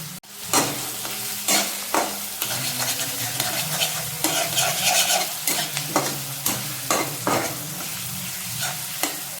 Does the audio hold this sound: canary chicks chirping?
no